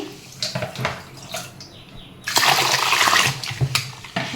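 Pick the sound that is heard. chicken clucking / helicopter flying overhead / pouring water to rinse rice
pouring water to rinse rice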